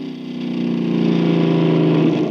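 A car engine revs up steadily as the accelerator pedal is pressed, a loud, close, sustained drone that rises and holds throughout with no talking.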